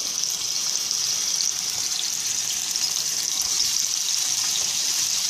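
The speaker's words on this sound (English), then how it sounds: "And we're going to sear these up" Steaks searing in a hot non-stick pan, a loud, close, continuous hissing sizzle that holds steady and even throughout, with no talking.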